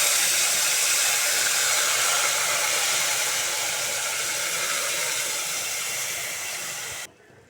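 Ground tomato, onion, ginger and garlic paste hits hot tempering oil for a restaurant-style green peas masala, giving a loud, steady broadband sizzle that hisses on for about seven seconds before cutting off abruptly.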